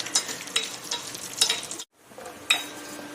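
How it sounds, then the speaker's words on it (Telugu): Cashews and pistachios frying in ghee in a pan, a soft sizzle punctuated by spoon stirs and scrapes, briefly cut to silence midway before the stirring resumes; close and without speech. "జీడిపప్పు పిస్తా పప్పులు వేయించుకుందాం."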